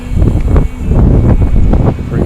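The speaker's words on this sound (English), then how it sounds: "Another windy day at the lake." Steady wind buffets a lakeside camp on a blustery morning, a broad continuous rushing roar with gusty swells, close to the microphone and heard alone.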